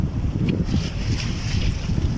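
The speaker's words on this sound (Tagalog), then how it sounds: "medyo mahangin no" Strong wind buffets the microphone at the seaside at high tide with a constant low rumble, steady throughout, with faint surf-like noise underneath and no voices.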